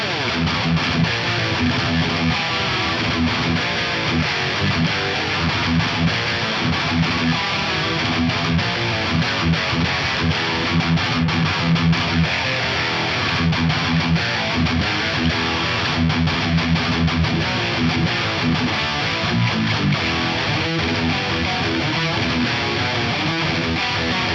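A heavily distorted electric guitar, a PRS with Filtertron pickups on the bridge pickup, plays a dense, bright, tight high-gain riff continuously and loudly, with no talking.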